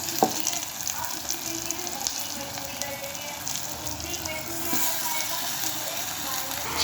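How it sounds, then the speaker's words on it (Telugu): Onions, green chillies and whole spices fry in a pot with marinated chicken, a steady close sizzle with faint stirring scrapes. "ఉల్లిపాయలు, పచ్చిమిరపకాయలు, మసాలా దినుసులు వేగుతున్నాయి కదండి"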